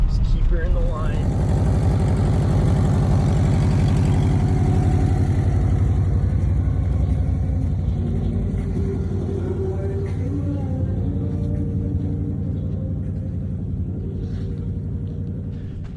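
A vehicle engine rumbles loud and steady while driving through snow, a continuous low drone that holds throughout and eases slightly toward the end.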